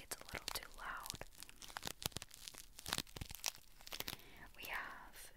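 Close, quiet crinkling and tearing of snack wrappers from a box of Italian treats, in irregular rustling bursts with a couple of longer rips.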